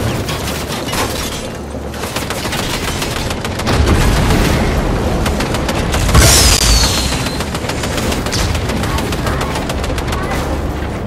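Rapid gunfire from a Fortnite match rattles in dense bursts with a few louder booms, continuous and close, while players talk over it.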